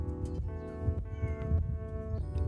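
A cat meows several times in short, close calls, with a soft background hum and no one speaking.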